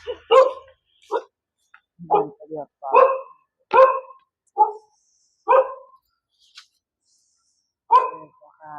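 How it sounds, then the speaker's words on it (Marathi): Several dogs bark in the early-morning dark, around 4 a.m., on a street near a Ganpati temple, sending out loud, close, repeated bursts in an uneven rhythm with short pauses and a brief spoken voice mixed in. "सकाळी सकाळी कुत्रे भुकतात ते."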